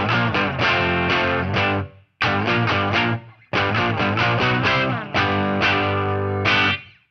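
Electric guitar through an amp speaker with a slashed cone, heavily distorted and gritty; four loud strummed chord phrases with brief gaps, chords ringing and rhythmic, played alone with no talking.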